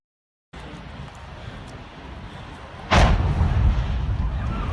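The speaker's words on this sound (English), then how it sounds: "What you just saw was an explosion at a gas station" A low rumbling background abruptly broken by a single loud blast from a gas station explosion in Novosibirsk, followed by a sustained heavy roar.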